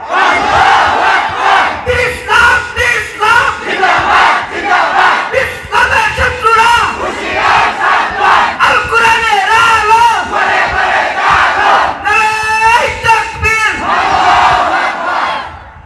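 A large crowd shouts the Islamic chant Nara-e-Takbir in unison, loud and close, with repeated surging call-and-response waves of massed voices.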